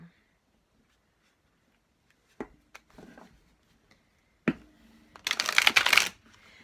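Oracle cards being shuffled by hand: a couple of soft taps and riffles, then a louder, dense burst of shuffling near the end, close up in a quiet room.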